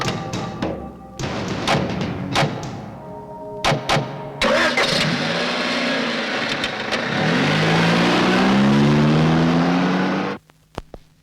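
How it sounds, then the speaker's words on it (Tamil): A car engine cranks after several thumps and door knocks, catches and idles, then revs steadily as the vehicle reverses, loud and close before cutting off at the end. "ஏய், வண்டியை பின்னாடி எடுத்துரு."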